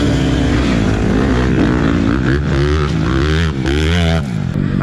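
Several gas-powered dirt bike motorcycles roar past during a race, their loud, buzzing engines rising and falling in pitch continuously as they pass close by.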